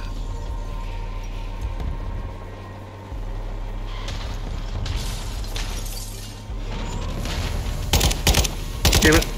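Bursts of rapid automatic gunfire from Call of Duty: Modern Warfare II, played on Xbox Series X, crackle over a loud droning vehicle engine, growing denser and sharper toward the end.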